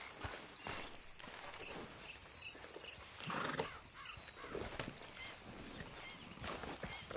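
Horse hooves clopping in Red Dead Redemption 2 as a rider sets off on horseback, a steady soft walking rhythm mixed with faint snorts and ambient game sounds.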